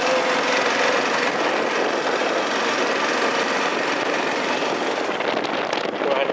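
Engine of a 2004 Honda Foreman Rubicon 500 4x4 ATV driving in fifth gear, a steady loud roar with wind and road noise throughout.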